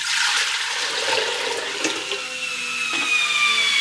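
Water pours steadily into a pot for a seitan cooking broth, a continuous rushing splash that stays fairly loud and close throughout.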